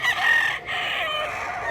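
A two-year-old Black Hini gamecock crows nearby in Mantalungon, Cebu, with one loud sustained call that breaks briefly and then carries on.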